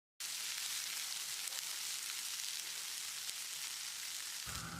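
Chopped coriander leaves sautéing with onions in a hot pan after the stove is switched off: a faint, even sizzle that starts abruptly and holds steady, with no voices.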